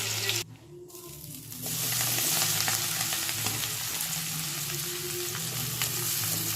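Marinated paneer gravy mix for a capsicum paneer gravy hits the hot oil left from frying paneer, a brief quiet gap giving way to a loud, steady, close sizzle that holds to the end with no voices.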